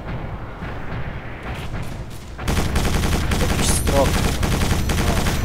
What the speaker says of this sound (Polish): Już do mnie już ktoś strzela